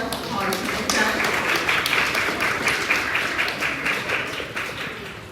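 Sustained applause from an audience at a Hong Kong award ceremony as student winners are called to the stage, steady dense clapping filling the whole stretch at moderate loudness with no talk over it.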